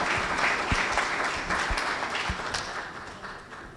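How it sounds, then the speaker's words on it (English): At an employers' annual conference, a room full of people gives a round of applause, a dense, sustained wash of clapping with a few sharper individual claps standing out near the front. "we really ought to give a round of applause for that."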